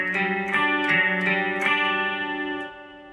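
A picked guitar plays a sustained, ringing chord pattern from the verse of a song, individual notes plucked in a steady rhythm and fading out at the end.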